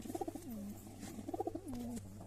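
Two bursts of soft, rolling coos from a pair of white domestic pigeons, close by and fairly quiet over a low background hum.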